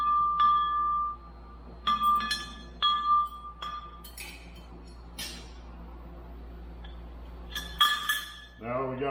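Metal wind chime, just hung on its wire, rings out in bright clinking tones: several separate struck notes with lingering decay, a few overlapping clusters, then a final burst of chimes near the end, close by.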